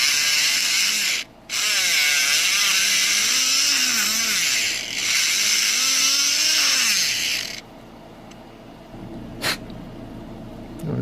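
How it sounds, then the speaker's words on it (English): An engraver fitted with a diamond burr bit undercuts a chamber, giving a loud, close, high whine that rises and dips in pitch as the bit bites, then cuts off abruptly near the end. "I'm going to go in with my diamond burr bit in my engraver and give it a little undercutting"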